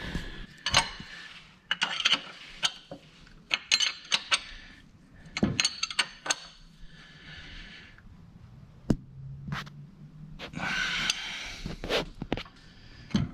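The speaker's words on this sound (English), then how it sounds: "my next step is going to be to tighten up all these bolts" A ratchet tightens transmission bolts, with bursts of quick metallic clicking and clinks of tools, separated by short pauses, close and fairly quiet.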